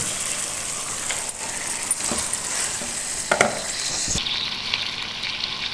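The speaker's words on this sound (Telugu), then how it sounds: "అల్లం వెల్లుల్లి పేస్ట్ కూడా ఫ్రై అయిన తర్వాత ఇదిగోండి చికెన్ కూడా వేసేద్దాం" Chicken frying with ginger garlic paste for mandi rice sizzles loudly and continuously in a pan, broken by a few sharp clanks and scrapes of a spoon, close and with no talk.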